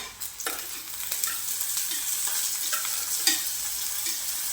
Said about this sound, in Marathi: आपल्याला भाज्या जास्त परतवायच्या नाही आहे ते थोड्याशी आपल्याला परतून घ्यायच्या